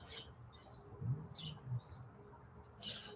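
Outdoors, a bird gives a few short, high chirps spaced at irregular intervals, fairly faint against a quiet background with low rustling.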